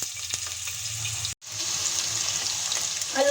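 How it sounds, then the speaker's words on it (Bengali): Cut potato pieces fry in hot oil in a kadai, a soft continuous sizzle with a brief dropout midway and a small clatter at the end. "এখন আমি টুকরো করে কেটে রাখা আলুগুলো একটু ভেজে নেব।"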